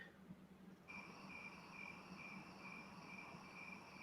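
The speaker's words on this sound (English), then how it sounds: "I like the crickets." Crickets chirp steadily in a high, continuous trill with regular pulses, faint and alone without any voices.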